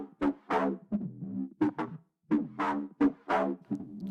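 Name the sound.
filtered mid bass with tape saturation and chorus, Ableton drum and bass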